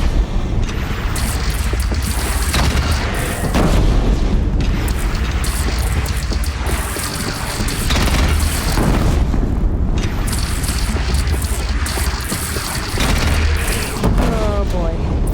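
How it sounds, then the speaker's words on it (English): Game audio from Horizon Zero Dawn as a bridge is blown apart by an explosion: a loud, sustained rumbling blast with crashing debris filling the scene, under continuous game noise and some talk. "They're gathering under the bridge, Aloy. Bring it down on them."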